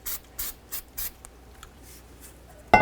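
Hand sanding on the hub backing area behind a brake rotor of a 2000-2005 Buick LeSabre makes four short, evenly spaced rasping strokes close by, followed by a pause and a sudden louder clunk at the end.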